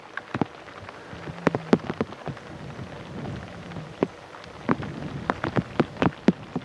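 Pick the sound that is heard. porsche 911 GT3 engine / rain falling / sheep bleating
rain falling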